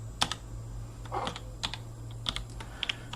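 Keys clack on a computer keyboard as a bash command is typed in a terminal, in short irregular bursts of taps over a steady low hum, close and without talk.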